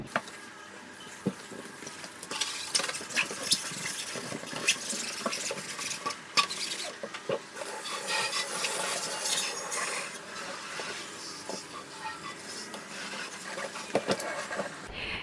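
A kitchen sink is scrubbed clean after a limescale remover has been left on it, with irregular scraping, clinks and splashes of water close by, quiet but busy throughout.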